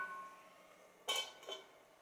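A metal lid set back onto a pan of fresh green peas cooking on the stove for matar kachori: two quick, soft clinks close together, otherwise near silence.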